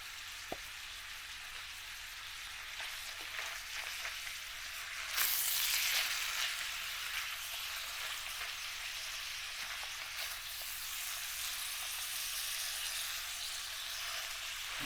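Onions and vegetables frying in a pan at a solo overnight campsite, a steady soft sizzle with a brief louder hiss partway through when food is stirred, quiet and close with no talking.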